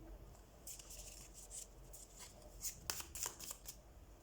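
Tarot cards are shuffled and drawn close up, with soft crisp riffling and brief card snaps at moderate volume over a quiet room.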